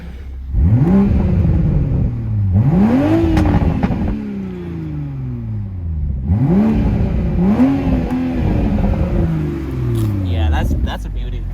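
A 2021 Toyota Supra engine revs hard in several sharp rising-and-falling bursts with crackling exhaust pops, loud and close, while people talk excitedly over it.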